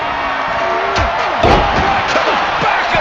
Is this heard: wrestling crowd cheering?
yes